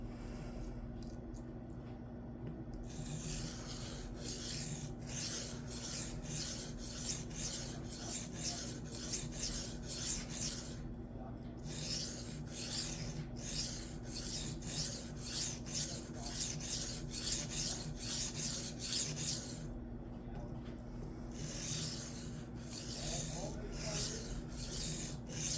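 A Cold Steel Kudu Lite knife is honed on a Shapton Glass 220 whetstone with steady, rhythmic rasping strokes, close and even, broken by short pauses, over a faint constant hum.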